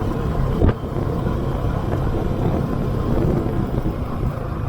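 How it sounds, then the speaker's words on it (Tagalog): Strong wind buffets the microphone on a steep, sandy mountain road between Tarlac and Zambales, a constant loud low rumble with a brief gust thump near the start and no voices. "Lakas ng hangin."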